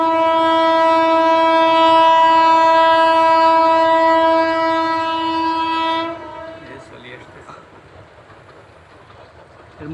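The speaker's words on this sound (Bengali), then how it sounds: "ট্রেনের কিন্তু শব্দ শোনা যাচ্ছে" A train crossing the Mutki bridge sounds a loud, sustained horn for about six seconds, then the blast cuts off and a low rolling rumble lingers faintly.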